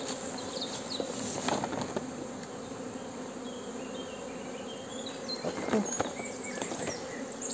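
Honeybees buzz continuously around the listener at a crowded hive, a dense droning hum with individual insects passing close now and then; no one speaks.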